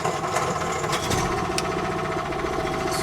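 A steady mechanical vehicle engine drone with a low rumble and faint knocking, holding constant with a few brief clanks.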